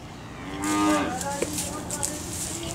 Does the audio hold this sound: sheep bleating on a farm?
yes